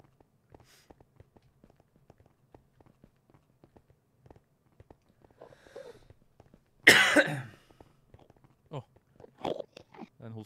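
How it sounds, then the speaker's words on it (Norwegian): A single loud cough bursts out near the mic during a Minecraft Nether gaming session, after faint clicks and taps, followed by brief mouth noises and muffled sounds. "Den hosten skremte meg, ass."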